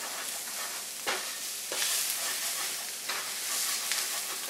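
Spices with cinnamon cook in a pan for Afghani chicken, giving a loud, continuous sizzle with periodic scraping strokes of a spatula across the pan bottom.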